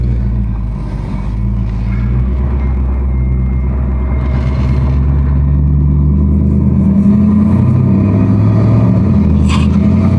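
A 1955 Oldsmobile with a 4L60E automatic transmission pulls away and accelerates up through its gears, a steady loud low engine rumble swelling and easing as it climbs, heard from inside the car with no talking.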